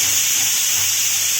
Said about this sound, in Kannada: ನಾನು ಇದರಲ್ಲಿ 3 ವಿಷಲ್ ಕೂಗಿಸ್ಕೊತಾ ಇದ್ದೀನಿ.